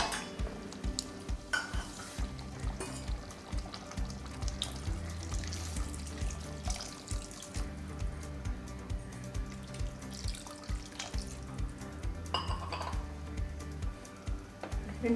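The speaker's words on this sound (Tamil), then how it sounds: "இப்போ தண்ணி சேர்த்துக்கலாம்." Water is poured into a simmering prawn and okra kulambu, a steady gurgling, sizzling flow with faint stirring clatter throughout, close and continuous.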